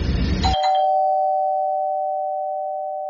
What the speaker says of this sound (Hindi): साथ ही डोरबेल बजी